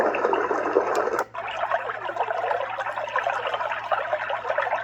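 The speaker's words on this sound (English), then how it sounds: "it's a stream in a cave" White noise machine playing a stream-in-a-cave track, with a steady hissing rush of flowing water that dips for a moment and then continues at an even, moderate level.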